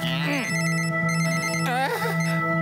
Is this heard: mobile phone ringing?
yes